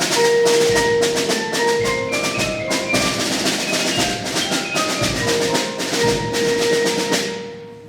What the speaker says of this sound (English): the percussion section includes snare drum, bass drum, cymbals, timpani, xylophone, all kinds of different instruments